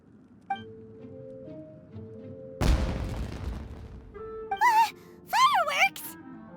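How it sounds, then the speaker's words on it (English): Fireworks burst in Genshin Impact with a sudden loud crackling blast midway, decaying into a rumbling fizz, followed by whistling, wavering tones; game music plays quietly before the burst. "It sounded like fireworks."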